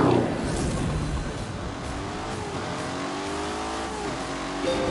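Lamborghini Urus engine revving steadily uphill in The Grand Tour Game racing video game, a loud, continuous turbocharged engine drone with shifting pitch and brief tire noise.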